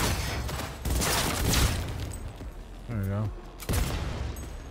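Gunfire in the video game Cyberpunk 2077 comes as dense, loud bursts of rapid shots with rumbling impacts, broken by short pauses, while a voice speaks briefly over it.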